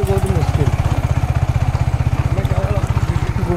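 A scooter climbs a steep, difficult hill road. Its small engine thrums in a fast, even, pulsing beat, loud and close throughout, with a faint voice briefly audible beneath it.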